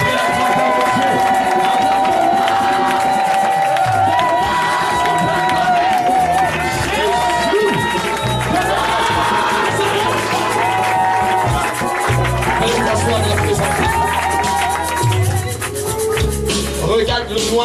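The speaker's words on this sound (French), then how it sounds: "je veux qu'on acclame fortement pour ça" A church congregation at a baptism and anniversary celebration cheers and acclaims loudly, a continuous wash of shouting voices, whoops and some clapping under music and a prominent voice, sustained throughout at high level.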